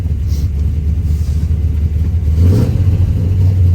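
1968 Pontiac GTO with a Hurst 4-speed shifter, its engine running at a steady low rumble before a short blip of revs raises the pitch, close and loud, with no talking.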